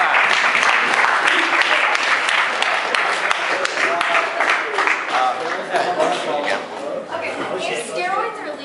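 An audience applauds continuously with dense, loud clapping that goes on for several seconds, mixed with crowd chatter and some cheering.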